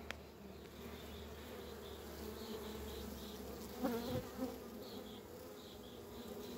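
Honeybees buzzing at an open hive during spring queen marking, a steady close drone of many wings with individual bees whining past, plus brief handling noises.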